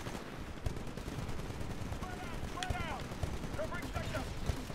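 Steady rattling automatic gunfire in online multiplayer Titanfall, dense and continuous with occasional sharper shots, and faint whooshing effects in the middle.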